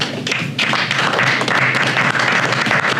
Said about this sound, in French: Donc nous allons applaudir M. Mbunja